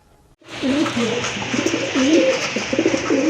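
Fancy pigeons, Mushaldam type, coo in soft repeated throaty rolls close by, beginning after a brief pause and continuing steadily with no talk.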